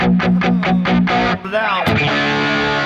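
Electric guitar riff through a distortion pedal in a crunchy tone: a run of rhythmic palm-chugged chords, then a sliding bend and a sustained distorted chord ringing out, loud and close.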